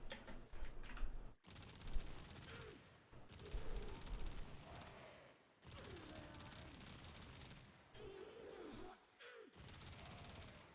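Video game gunfire goes off during a fight against the Basmu boss while the player aims for headshots, with rapid crackling bursts and pauses mixed with game effects and a voice speaking over them.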